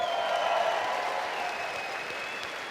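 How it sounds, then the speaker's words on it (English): Applause from a seminar audience at a leadership training session, a soft, even wash of clapping heard at a distance with a faint tonal hum beneath it, fading slightly. "Can we give them a huge round of applause?"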